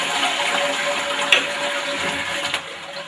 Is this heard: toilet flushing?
yes